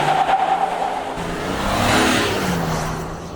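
A Chevy Suburban full-size SUV launching hard from a brake-torque start, its engine note climbing in a rising roar that swells to a peak and then eases slightly, heard from inside the vehicle with no talking.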